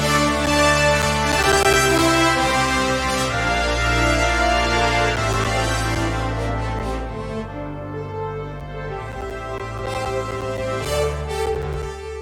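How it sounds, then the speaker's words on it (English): A brass section rendered with MuseScore 4 sound fonts plays full, blended sustained chords with swelling and fading dynamics, dense and loud throughout with no speech. "And then here's the brass in MuseScore 4"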